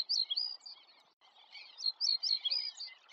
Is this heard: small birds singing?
yes